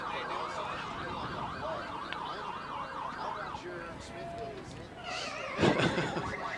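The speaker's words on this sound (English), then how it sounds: "They're playing Pac-Man on the scoreboard here" A wavering electronic warble of Pac-Man video game sounds trills steadily from a stadium scoreboard under a crowd's murmur at a high school football game, then a rising arcade-like jingle sweeps in near the end amid cheering.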